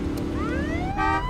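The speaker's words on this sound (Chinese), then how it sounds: "警车 police car" A police car siren rising in a smooth wail over a low engine rumble, loud and close, with a brief burst of brighter tone near the end and no talking.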